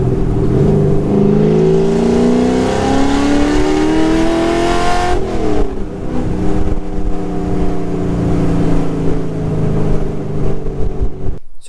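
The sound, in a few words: 1969 ProTouring Camaro engine revving and driving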